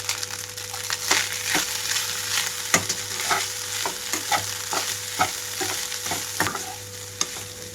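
Egg fried rice being stir-fried in a pan at home, with a steady sizzle under repeated scraping and tossing strokes of a spatula, close and fairly loud, no voices.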